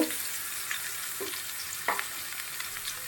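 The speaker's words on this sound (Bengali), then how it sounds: "এখন ওই গাজর কুচিগুলাই ঘিতে ভেজে দিব" Chopped carrot pieces fry in ghee for a carrot payesh, a quiet steady sizzle broken by a few short stirring scrapes, with no talking.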